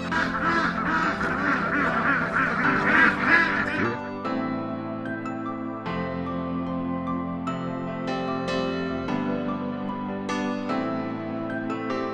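Several ducks quack loudly and repeatedly, their calls overlapping at first and then coming in separate bursts close to the listener.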